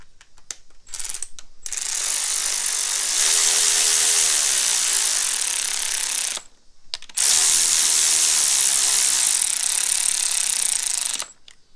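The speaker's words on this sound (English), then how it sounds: "we use this handy dandy power tool" Two long bursts of a loud, buzzing power tool running close by, tightening bolts during a timing belt install on a 2008 Subaru Impreza 2.5, with a short pause between them and brief starts at the beginning.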